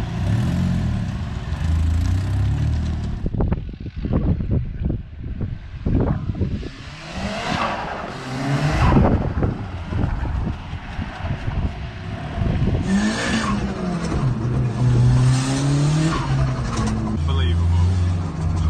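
A modified red VW MK5 car with an external wastegate. Its engine revs and surges loudly up close, with fluttering blow-off bursts and a rising and falling exhaust note, and voices are heard over parts of it.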